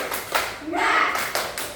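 Elementary school pupils in a fourth-grade Indonesian class clap a short rhythmic cheer pattern together, with sharp group claps in bursts between chanted voices.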